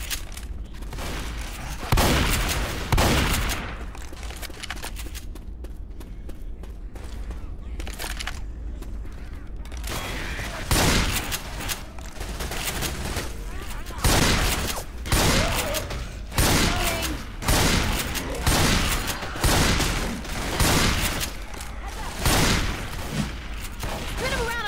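Bursts of gunfire from the Left 4 Dead 2 video game on the Gas Fever campaign, repeated volleys and single shots across a long stretch, loud and dense with game noise between.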